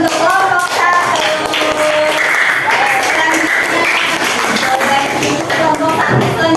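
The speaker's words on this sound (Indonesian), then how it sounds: "beri tepuk tangan untuk kelompok 1" A classroom of students applauds a group, dense continuous clapping close up with children's voices chattering underneath throughout.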